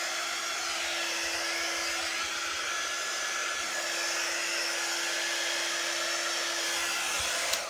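A hair dryer blows steadily at close range to dry a surface before a transfer goes back on, a constant loud whirring rush with a faint tonal hum, running without a break and with no talking.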